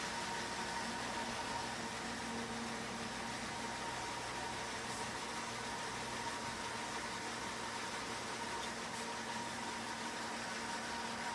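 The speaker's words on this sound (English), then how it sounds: "it's going to go through its rinse cycle" A CMA L-1X16 undercounter dishwasher runs its rinse cycle with a steady, faint hum and a continuous wash of water noise that stays even throughout, with no voices.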